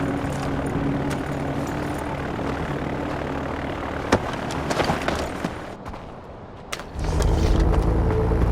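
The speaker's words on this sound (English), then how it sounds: "Everything you need to know about who killed your father is in that file. What file? One in the plane that's about to take off." Propeller plane about to take off in the video game Far Cry 4, a steady droning engine hum that dips briefly, then swells louder near the end, with a few sharp clicks and no speech.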